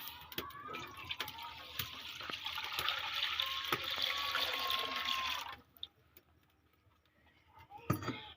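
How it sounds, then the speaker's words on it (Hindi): Two litres of milk poured into a kadhai on the stove for carrot kheer, a steady splashing pour for about five seconds that stops abruptly, followed by quiet room sound and a brief knock. "खालिस 2 लीटर दूध डालेंगे।"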